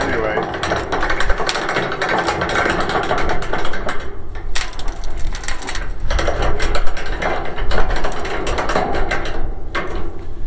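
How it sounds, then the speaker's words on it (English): A winch hauls a load in a hay loft, giving a rough, ratcheting mechanical grind with irregular bursts, fairly loud and close, mixed with some talk. "this should be fairly simple with a winch."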